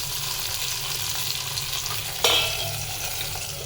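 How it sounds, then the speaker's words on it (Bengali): Rohu fish frying in a pan at home, with a loud steady sizzle close by and a sharp clatter of stirring or a utensil striking the pan partway through. "মা মাছ ভাজা করে নিচ্ছে"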